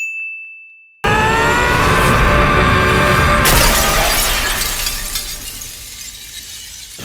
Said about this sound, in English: seeing the blade shatter and its reflection perfectly mirrored in it